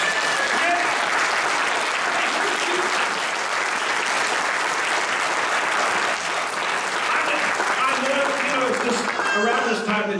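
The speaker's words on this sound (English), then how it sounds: "We ought to give the Lord a hand clap of praise for that." A church congregation claps their hands in praise, a loud sustained burst of applause with voices calling out over it throughout.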